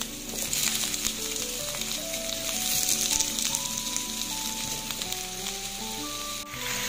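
Eggplant fries steadily in a pan, with a constant close crackling sizzle running throughout, over soft background music.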